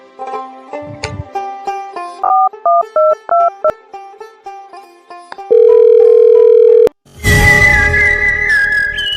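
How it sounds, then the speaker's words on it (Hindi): Telephone keypad tones beep in a quick sequence of distinct pitches, then a steady dial tone holds before a burst of noisy static and another sustained tone. "लागत है हमका तुरंत CID से फोन लगा पड़े।"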